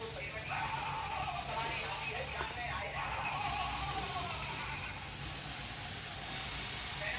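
Parathas cook in a pan with a steady hissing sizzle throughout, while a person talks over it.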